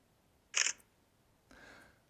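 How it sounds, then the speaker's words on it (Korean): A smartphone camera shutter pressed with a thumb while the phone is held one-handed on a grip: one crisp, fairly loud click, then a softer, longer rustle about a second later. "엄지로 카메라 셔터를 눌러주시면 됩니다"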